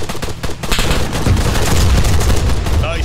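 Gunfire in the military shooter ArmA 3 comes as a loud, sustained burst of rapid shots and booming reports over about three seconds.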